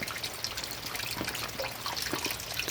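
Rainwater falls steadily into a rainwater harvesting pit, a continuous close splashing and trickling wash with no speech.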